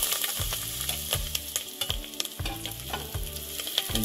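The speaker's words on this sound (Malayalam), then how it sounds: "അതിലേക്ക് അരിഞ്ഞിരിക്കുന്ന സവോള, സെലറി, ക്യാരറ്റ്, വെളുത്തു എന്നിവ ഇട്ട് കൊടുക്കുകയാണ്." Chopped onion, celery, carrot and garlic sauté in a pan for cream of chicken soup, a steady close sizzle broken by repeated scraping stirs at a regular rhythm, with no talking.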